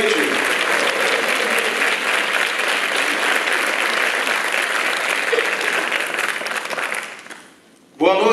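A concert audience applauds and cheers loudly at a literary music event, a dense continuous roar of clapping that fades out near the end before a sudden new burst.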